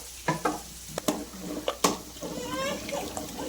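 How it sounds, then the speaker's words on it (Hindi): Bitter gourd (karela) fries on a home stovetop, with a steady sizzle broken by sharp clinks and stirring knocks of a utensil against the pan. "ये चूल्हे पे है ना करेले फ्राई हो रहे"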